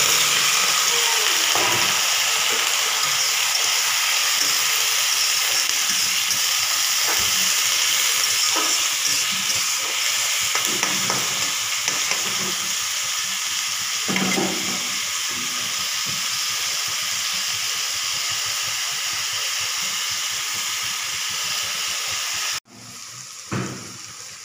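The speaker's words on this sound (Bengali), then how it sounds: "তেল গরম করে দিলাম আর এখানে চাউচাউ সিদ্ধ করে রেখেছি। এখানে আলু আর পেঁয়াজ কেটে রেখেছি," Sliced potato and onion fry in hot oil with a continuous, dense sizzling hiss and scattered crackles, holding loud and steady for over twenty seconds before cutting off abruptly near the end.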